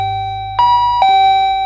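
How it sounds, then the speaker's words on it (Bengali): An electric doorbell at a house in Kolkata gives two sustained electronic ding-dong tones in quick succession. The chimes are close and loud and play alone without talk. "দেখি কলিং বেলটা টিপে বাড়ির ভিতরে কেউ আছে নাকি।"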